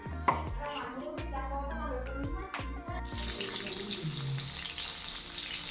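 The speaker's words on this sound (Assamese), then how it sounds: "এয়া এইফালে মই মাছ ফ্ৰাই কৰি আছোঁ" Fish frying in a pan in a home kitchen: a few clattering, ringing knocks at first, then a steady, fairly close sizzle that runs to the end.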